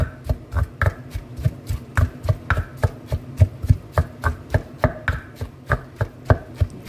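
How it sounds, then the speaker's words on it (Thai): A pestle pounds mushroom chili paste in a mortar in a fast, steady rhythm of close, thudding strikes, about three per second, with no talking. "ก็ตำไปเรื่อยๆนะคะตำให้ละเอียด"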